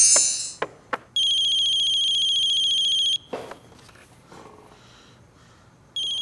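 A phone rings with an incoming call: a loud electronic ringtone in two long bursts separated by a short pause, with some faint rustling and handling noise between them and no speech.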